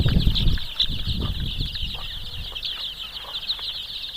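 Free-range country chickens on a farm cluck and squawk close by amid brief wing flaps, with a steady high insect-like drone running underneath.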